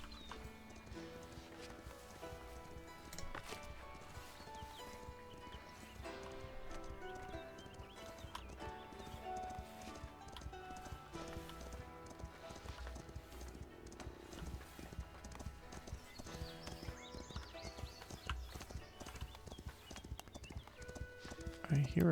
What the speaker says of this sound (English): I hear a horse, but I do not see a horse.